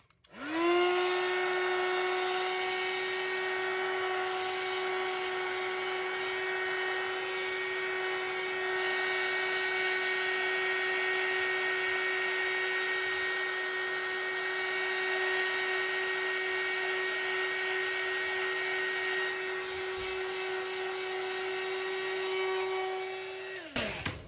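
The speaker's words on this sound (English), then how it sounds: "Let me grab the heat gun." A heat gun blows steadily over freshly poured geode-style resin coasters, a loud continuous whirring roar with a strong tonal whine that starts abruptly, holds level for over twenty seconds, then cuts off.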